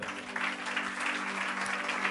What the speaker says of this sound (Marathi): ओके, जरा सिस्टर साठी टाळ्या वाजवा.